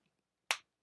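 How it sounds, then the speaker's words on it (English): A single sharp finger snap made roughly ten feet from the microphones, passing through a noise gate: one crisp, isolated click that opens out of silence and cuts off quickly. "Just me snapping my fingers from far away from the kid."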